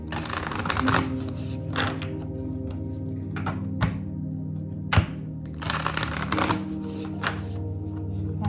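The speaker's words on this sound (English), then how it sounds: "let's see if we can get a card from the Whispers of Love" Whispers of Love oracle cards shuffled by hand in a series of rustling, flicking bursts broken by dull thunks as the deck is tapped and squared, close and fairly loud.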